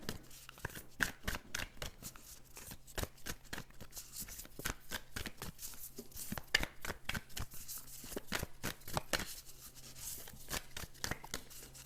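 Tarot cards are shuffled for a reading: soft, quick papery riffles and taps repeat in a close, quiet, continuous rhythm with no voice over them.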